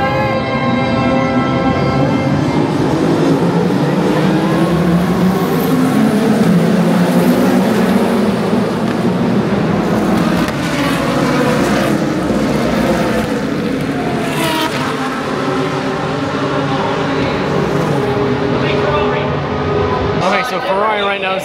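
Race cars at the WEC Lone Star Le Mans endurance race at Circuit of the Americas roar past in a continuous loud wash of engine noise, with people talking throughout.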